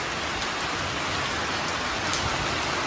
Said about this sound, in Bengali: আবার ঝুমঝুম করে বৃষ্টি শুরু হলো